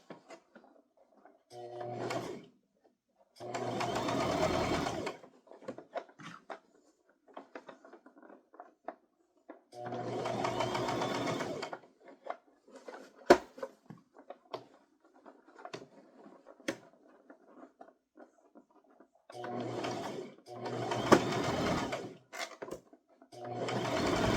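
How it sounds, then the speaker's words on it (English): A sewing machine stitches a toddler crossbody purse in several separate runs of a few seconds each, close and moderately loud, with quiet gaps between them filled by small clicks and fabric handling. "Just keep sewing till you meet back up with where you started."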